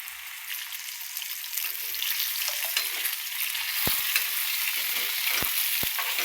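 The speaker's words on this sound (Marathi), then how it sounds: "सगळे असे बटाटे टाकायचे बघा, सगळे सोडायचे असे." Salted potato pieces frying in a pan give a loud, steady crackling sizzle throughout, broken by a few sharp utensil clicks near the end, heard up close without speech.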